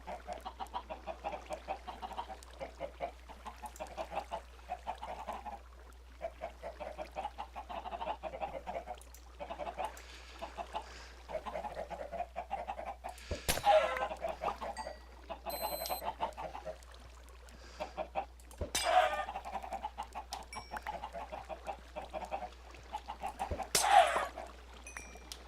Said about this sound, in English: Now I'm going to have to kill the chickens because they're going to mess up my system.